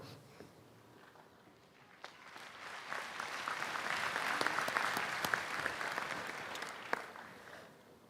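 A crowd at a high school commencement ceremony applauds, the clapping swelling from scattered hands into a steady, full round that carries on at a moderate distance.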